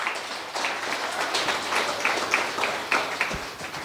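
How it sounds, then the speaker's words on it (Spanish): A church congregation applauds during a Quechua-language worship service, brisk clapping from many hands at moderate distance, fairly even and sustained without any voice on top. "Fuerte aplausos a Cristo Jesús."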